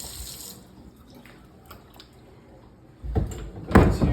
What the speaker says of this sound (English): I'll just use a cool water. Rinse it off a bit.